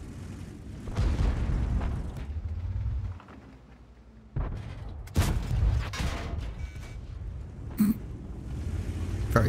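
Heavy booming shots of a tank gun in World of Tanks, a few deep blasts with rumbling tails separated by quieter engine drone and mechanical clanks.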